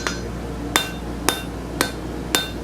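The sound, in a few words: hammer forging metal on an anvil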